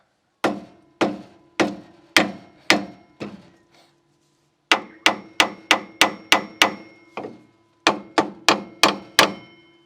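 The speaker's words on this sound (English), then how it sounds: "Just tap them until they pop out like that." A hammer taps out cone washers from a Landcruiser swivel hub in sharp, ringing metallic strikes, grouped in quick bursts of five to seven blows with short pauses between, close and loud with no talking.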